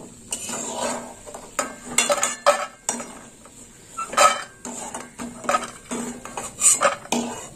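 A spatula scrapes and clinks against a pan while fried lentil dumplings (bori) are lifted out of hot oil, giving a run of close, irregular metallic taps and scrapes with no talking.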